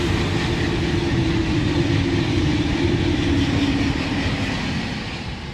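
Eurostar high-speed train rushing past at 300 km/h, a loud sustained roar with a steady tonal hum that holds, then begins to fade as it pulls away.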